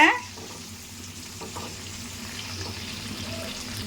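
Four dried red chillies fry in a pan while being stirred, a soft steady sizzle close by with occasional light scraping, after a brief louder clatter at the start.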